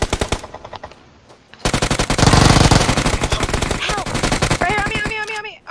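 Rapid bursts of automatic gunfire ring out close and loud in a shooter video game, a dense rattling stream of shots with a brief lull, then sustained firing and whizzing effects near the end.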